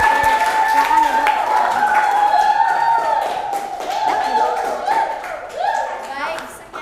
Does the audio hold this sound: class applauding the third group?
yes